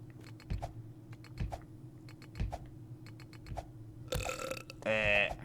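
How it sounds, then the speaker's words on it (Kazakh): A game character lets out a burp: rhythmic low thumps run through the start, then a harsh noisy burst, and a loud, tonal belch closes near the end with no talk. "Кекіреді еще."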